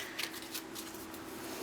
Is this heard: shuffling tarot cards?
yes